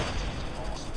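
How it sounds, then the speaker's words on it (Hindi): A bomb explodes in the video game Call of Duty Mobile, a loud, dense, rumbling blast that fills the entire moment without a break, with a voice faintly audible underneath. "यहाँ पे गिराते हैं बम।"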